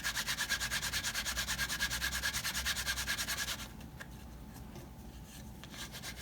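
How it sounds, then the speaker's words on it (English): Waxed leather guitar strap edges are rubbed briskly, a rhythmic close scraping stroke repeated rapidly for several seconds before stopping, followed by quieter faint handling sounds. "The whole idea of rubbing the edges is to heat up the wax, get that down into the pores."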